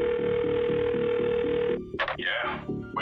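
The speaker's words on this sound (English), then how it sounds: "Immediately, we intercepted a suspicious phone call." Intercepted telephone call ringing, a steady electronic ring tone pulsing for under two seconds, then cut off as a voice begins speaking.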